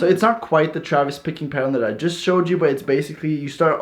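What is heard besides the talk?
None of the usual background noises is heard.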